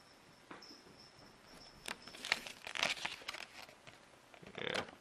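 Cellophane packaging being handled and unwrapped, giving soft, irregular crinkling bursts that grow a little louder toward the end, close by with no talk.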